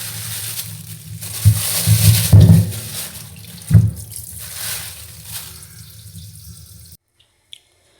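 Water splashes at a kitchen sink as fish are put to soak, with close, fairly loud bursts of running and sloshing water that stop abruptly near the end, leaving near silence.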